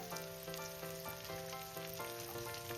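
Chopped mixed leafy greens fry in a hot pan over a raised gas flame, giving a steady, close sizzle and crackle with no pause, alongside a few soft stirring knocks.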